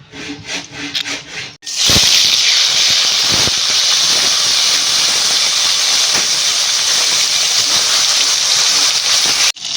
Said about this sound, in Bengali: মাছগুলো ভেজে নিই